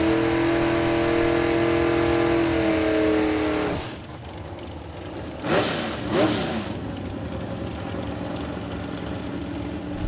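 Drag racing cars at Kil-Kare Dragway drone with a strong harmonic engine tone that drops away, followed by two sharp rising-and-falling passes of a racing engine a short distance off, then a steady low rumble.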